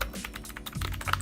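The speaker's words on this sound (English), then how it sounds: "I actually do like the typing on this keyboard more than I like these ones" Clicky keystrokes on a budget mechanical keyboard under $30, a quick irregular run of close, crisp presses with no talking.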